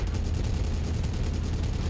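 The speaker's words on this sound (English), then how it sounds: "Another ammo explosion from the machine guns." Machine guns fire in the video game MechWarrior 5, a dense, continuous rattle of rapid shots with booming impacts, loud and unbroken throughout.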